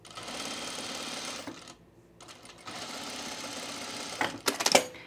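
A sewing machine stitches fabric pieces together notch to notch, running steadily, pausing briefly, then starting again, with a few sharp clicks near the end and no talking.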